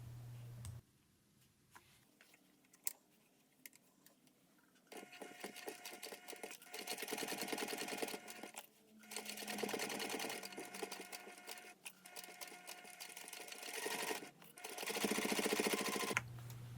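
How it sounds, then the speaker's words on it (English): A sewing machine topstitches along a bag seam in several bursts, its needle rattling fast and steady at close range, broken by short pauses and faint clicks between runs, with no talking. "Clip together and top stitch along the seam."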